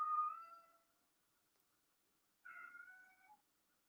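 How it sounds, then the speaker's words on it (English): A pet cat meows loudly indoors, two long drawn-out cries separated by a pause of silence, close and clear with no talking. "my cat is screaming at me to go outside"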